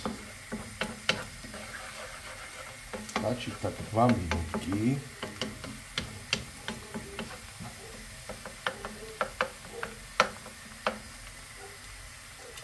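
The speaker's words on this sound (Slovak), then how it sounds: "Cestnáčik si necháme také dve minútky orestovať s cibulkou." Chopped garlic sizzles with onion in a frying pan, with steady crackling and repeated scraping clicks as it is stirred, and a person speaks briefly over the cooking.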